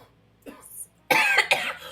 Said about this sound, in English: I gotta to edit out both of your coughing from the track